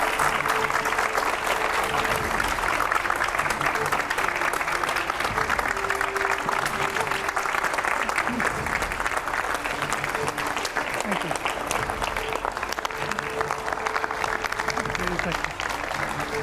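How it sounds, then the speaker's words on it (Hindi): Studio audience at a TV9 Hindi interview show gives loud, continuous applause welcoming BJP minister Temjen Imna Along, the clapping steady and close for over fifteen seconds while voices talk over it. "जोरदार तालियां तेमजिन इम्ना ओलोंग के लिए।"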